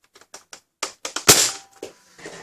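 A modded Adventure Force Liberator foam blaster fires a single sharp, loud pop, preceded by a series of short clicks and clacks as it is handled and primed, with rattling afterward.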